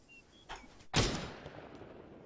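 A single powerful shot from the MAR-10 designated marksman rifle in Arma 3 cracks out loud and close, then rings into a decaying echo, with a fainter thump just before it.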